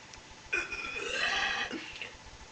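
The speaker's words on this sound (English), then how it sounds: "She kinda inhaled the air from her mouth. Then, well, she burps." A girl lets out one long, loud, drawn-out burp lasting over a second, close to the microphone, with no talking over it.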